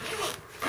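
A zipper on a carp bivvy table case is pulled open in one quick, close rasping zip, brief and crisp with a short second pull at the end.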